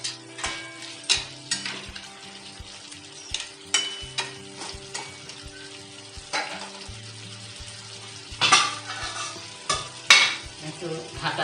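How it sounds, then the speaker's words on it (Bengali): Crab and spices sautéing in a pan, with bursts of sizzling and repeated stirring scrapes and clinks of a utensil against metal at irregular intervals, close and fairly loud. "কাঁকড়াটা দিয়ে দিচ্ছি, আমি একসঙ্গে সবগুলো কষাবো।"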